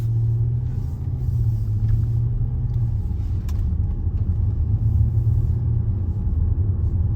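A car cruises steadily along country roads through villages near Minsterley and Pontesbury, heard from inside as a continuous low rumble of engine and tyres with no talking.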